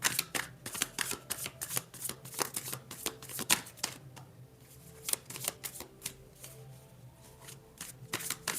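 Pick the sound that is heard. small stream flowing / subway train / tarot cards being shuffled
tarot cards being shuffled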